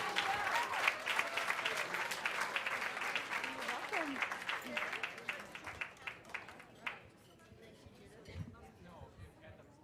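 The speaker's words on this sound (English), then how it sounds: "Give her a round of applause" A comedy show audience breaks into sustained applause with crowd chatter, dense clapping that thins and fades into scattered claps toward the end.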